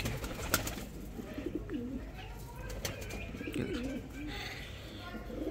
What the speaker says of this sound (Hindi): ये वही कबूतर है जो हमने पकड़ा था, गोल्डन।